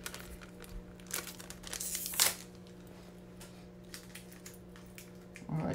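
Foil booster packs of Dragon Ball Super cards crinkle and rip in quiet, uneven bursts up close, with one sharper tear in the middle.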